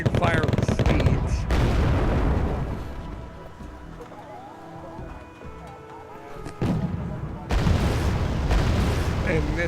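Gunfire and explosions in the real-time strategy game Wargame: AirLand Battle. Loud bursts and booms come at the start and again near the end, with quieter scattered shots between, and voices talk over the fighting.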